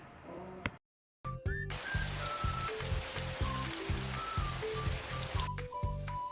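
Soft patter of rain on a surface, mixed with tinkling chime-like notes and a steady pulsing rhythm underneath.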